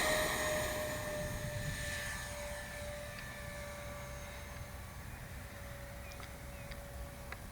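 A FreeWing ME 262 RC jet flies at a distance with a steady, thin whine holding a constant pitch over faint broadband rushing, fairly quiet and continuous throughout.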